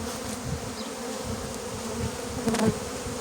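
Steady, dense buzzing of many bees close by, a continuous swarm hum that swells briefly louder near the end.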